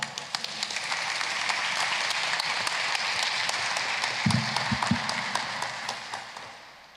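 A church congregation applauds in a steady, dense wash of clapping that holds for several seconds and then begins to taper off, with a few louder knocks near the end.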